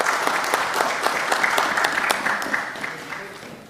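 A parliamentary commission hall applauds after the election of a new anti-corruption commission chair: steady, dense clapping from many hands fills the room near and loud, easing slightly toward the end.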